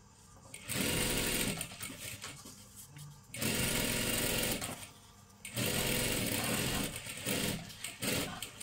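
A sewing machine stitches a salwar kurti in three loud, steady bursts, each a few seconds long, with brief pauses between runs. The close mechanical whirr and needle clatter stand alone.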